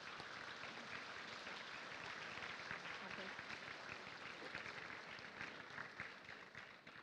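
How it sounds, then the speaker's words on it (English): An audience applauds graduates at a University of London presentation ceremony, a continuous, distant-sounding patter of clapping held at a low, even level. "Let us give a round of applause to the graduates who have just been presented."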